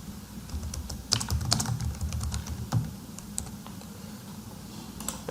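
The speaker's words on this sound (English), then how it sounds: "write down some comments here." Typing on a computer keyboard in an office, a steady run of close, crisp key clicks with several louder taps and brief pauses, heard alone without talk.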